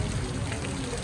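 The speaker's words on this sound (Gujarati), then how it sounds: "ફૂલ વરસાદ આવી ગયો છે" Heavy rain pouring down, a thick unbroken wash of falling water, close and steady throughout.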